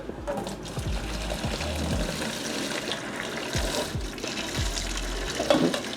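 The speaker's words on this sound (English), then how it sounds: "I think we are gonna throw some sand in here." Sand poured into an aquarium for a hillstream loach river setup, giving a steady watery pouring and trickling hiss throughout, with soft low thumps scattered through it and no talking.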